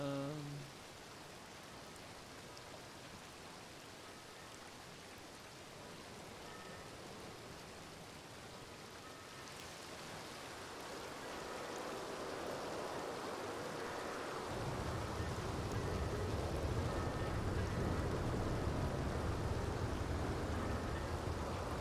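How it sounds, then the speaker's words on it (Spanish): Steady rain from a thunderstorm hisses throughout, swelling noticeably heavier and fuller about two-thirds of the way in, with no clear thunder crack and no voices. "Hay tormenta, joder."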